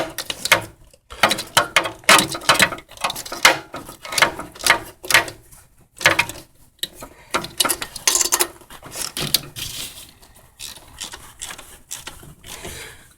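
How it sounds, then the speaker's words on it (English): A small ratchet tightening 10 mm throttle body bolts with a deep-wall socket, giving bursts of rapid close clicking separated by short pauses, repeated several times. "That's why I'm using a little ratchet."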